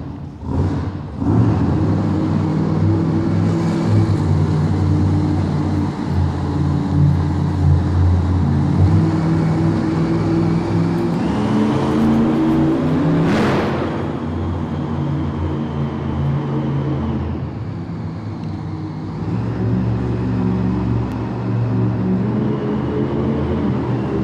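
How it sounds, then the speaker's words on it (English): The Monster Mutt monster truck drives around an indoor arena, its engine a loud, continuous rumbling drone that swells and revs, with one sharp surge midway before settling back to a steady roar. "We're going to drive around the arena, get you guys a good close-up of the truck."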